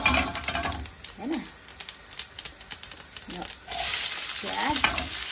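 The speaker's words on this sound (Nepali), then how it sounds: "मेथी, मैले मेथी फुराएको छु" Fenugreek seeds fry in a pan with a crackling, hissing sizzle and some stirring, loud and close. Brief bits of voice are heard between bursts.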